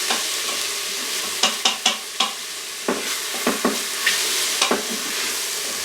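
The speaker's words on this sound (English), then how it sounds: "You don't want your garlic to burn, so be real careful with that. Stir that around for just a minute" Garlic sizzles steadily in an Instant Pot on sauté while a spoon stirs it, the scrapes landing as a run of sharp knocks against the pot over the constant frying hiss, close up and with no talk.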